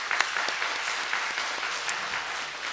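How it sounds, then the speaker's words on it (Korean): A church congregation applauding, dense steady clapping from many hands filling the room, continuous and fairly loud without a break. "다시 한번 크게 박수 한번 하겠습니다."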